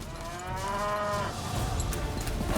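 A cow moos loudly in a cattle herd at a cutting horse competition, one long drawn-out bellow that fades into the low rumble and shuffling of the arena.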